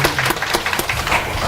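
Congregation clapping loudly in a church service, giving praise to God before a pastor's sermon, a steady, close burst of hand claps filling the hall.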